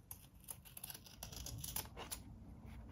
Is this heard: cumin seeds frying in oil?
no